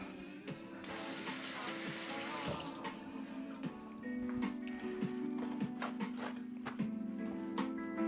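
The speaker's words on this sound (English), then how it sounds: "Rinse this off." Bitter melon rinsed under a running kitchen sink tap: a steady hiss of flowing water, briefly louder and splashier as the melon enters the stream, with faint clinks and handling sounds continuing close by.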